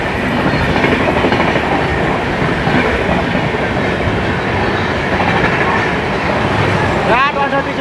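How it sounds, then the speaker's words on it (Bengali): The New Delhi–Howrah Rajdhani Express 12306 rushes past on a parallel track at speed, a loud, dense roar of wheels and carriages filling the whole stretch, with a brief squeal near the end. "সামনে থেকে আসছে নিউ দিল্লি হাওড়া রাজধানী এক্সপ্রেস 12306"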